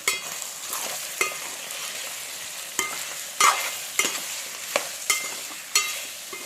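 Onions frying in a pan for mutton fry, a steady hiss of sizzling broken by repeated scraping stirs of a spatula, each stroke a sharp burst over the constant crackle.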